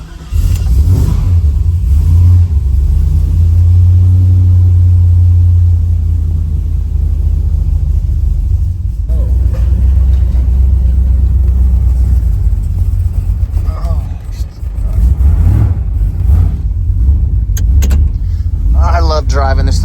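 An LS-engined, carbureted OBS truck revving hard and driving through mud, a loud, close, deep rumble that surges and eases over several throttle bursts, with a brief lull midway.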